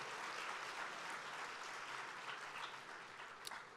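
A large crowd at an awards gala gives a sustained round of applause. It is a thick, even roar of many hands clapping, distant and soft, easing off slightly toward the end.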